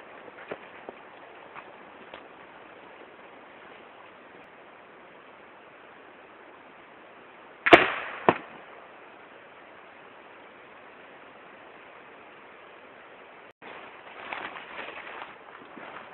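A Crosman 1377 PCP air pistol fires at a target 50 m away outdoors: one sharp crack, then a quick second knock, over a steady background hiss. A rustling patch follows near the end, with no talking.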